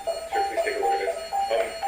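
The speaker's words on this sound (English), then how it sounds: "So the alarm will probably go off now, maybe." An alarm goes off in a repeating pattern of bright pulsing tones, several bursts in quick rhythm, loud and close with no speech.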